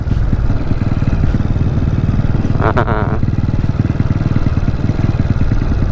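A motorcycle is ridden along a road beside a sunflower field. Its engine drones loudly and steadily throughout, with a brief clattering burst midway and no clear voice.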